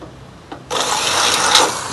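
A power drill bites into an aluminium truck tray mount, a short tap followed by a loud, continuous high grinding whir that holds steady to the end.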